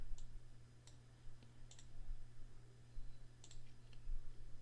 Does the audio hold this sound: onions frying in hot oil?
no